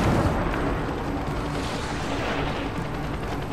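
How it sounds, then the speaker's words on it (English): Cannon volleys from a ship battle in Rise of the Tomb Raider, a loud continuous rumble of overlapping booms and blasts filling the whole clip with no voices. "We're ready to fire! Firing!"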